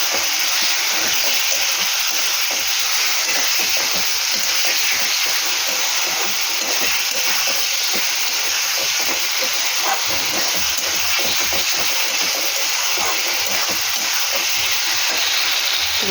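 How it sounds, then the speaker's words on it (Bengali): Water poured into a hot pan of half-boiled potatoes sets off a steady, loud steam hiss that runs unbroken throughout. "জল দিয়ে দিলাম"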